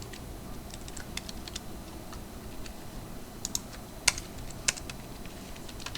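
Code being typed on a computer keyboard: scattered light key clicks in uneven bursts, a few sharper taps standing out above a quiet room hum.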